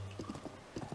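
Horse hooves clip-clop in Zelda: Tears of the Kingdom, a brisk run of about six close, even hoofbeats over one second over a low steady tone.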